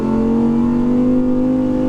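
An Audi R8 V10 engine holds a steady, loud, sustained note at about 5,000 rpm, its strong harmonic tone droning evenly throughout with no voices.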